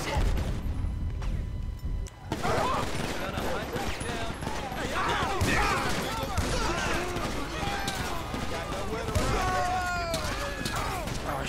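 Rapid bursts of gunfire crackle through a police shootout in GTA 5, loud and dense after a quieter opening, with overlapping shots and clattering mechanisms while voices talk over the action.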